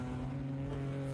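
A first-generation 1969 Chevrolet Camaro, car number 39, races past on the Summit Point road course, producing a brief, steady engine drone at moderate distance.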